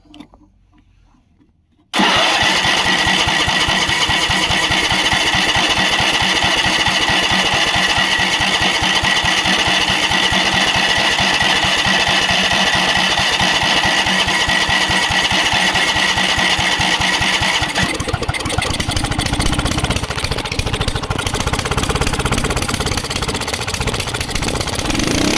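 A riding lawn mower engine cranks and catches after a brief quiet moment, then runs at a steady loud idle with a rapid putter that roughens and shifts in tone near the end.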